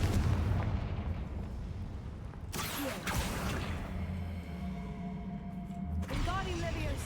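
Confringo fire blast spell in Hogwarts Legacy, sharp bursts and crackling blasts over a dense rumbling game soundscape, with voices in the mix.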